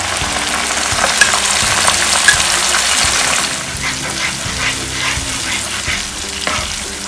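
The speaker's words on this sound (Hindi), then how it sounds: "धीमी आंच में थोड़ा मसाला फ्राई कर लेते हैं।" Spiced masala for chicken tikka biryani frying slowly on low heat in a pan, a loud continuous sizzle with scraping stirs throughout, close up and with no voices.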